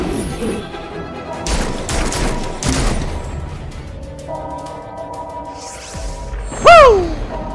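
Gunfire in the video game Gotham Knights: a burst of rapid shots and crashes early on, then quieter game effects and a sharp rising-falling whistle near the end, with no talking.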